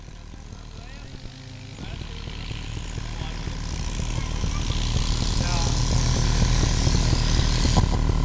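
A tractor engine roars at a tractor disc-plough contest, a steady droning rumble that grows gradually louder and closer, while an announcer talks over it.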